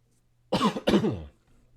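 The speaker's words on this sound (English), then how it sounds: "I'm probably going to be coughing a lot tonight" Two quick, harsh coughs in close succession, loud and near, followed by quiet.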